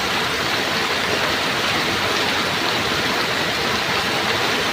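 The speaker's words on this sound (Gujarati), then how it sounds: "ખૂબ જ જોરદાર વરસાદ પડી રહ્યો છે પાણી ખૂબ જ જોરદાર ચારે બાજુથી વહી રહ્યું છે રોડ ઉપર" Heavy downpour with water rushing along a flooded road, forming a loud, dense, unbroken roar of rain and flowing water that stays constant throughout.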